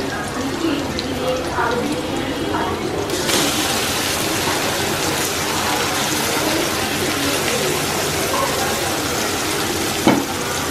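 Spice paste, kasuri methi among it, hits hot fried onions in a pan for chole and sizzles loudly, a dense continuous frying hiss with stirring, as a voice talks over it.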